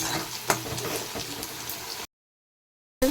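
Tomatoes sauté with masala in a pan, a soft, close sizzle broken by a few stirring knocks for about two seconds before the sound cuts to silence and briefly returns.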